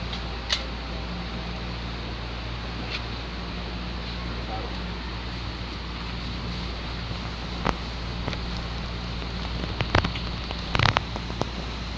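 Steady rain pattering on a surface at a mining site, with a constant low mechanical hum underneath and a few scattered clicks and knocks; no one speaks.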